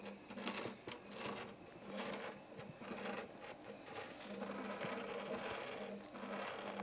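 A MakerBot-style 3D printer with a Mark V heated print head, printing steadily, with a busy stream of soft mechanical whirs, ticks and stepper-motor tones at low volume.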